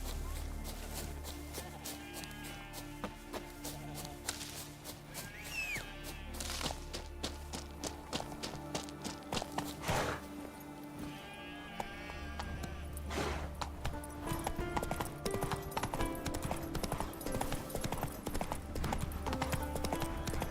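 Rapid galloping hoofbeats from Roach, Geralt's horse in The Witcher 3: Wild Hunt, drumming steadily near and loud over game music and ambience, with brief voice lines now and then.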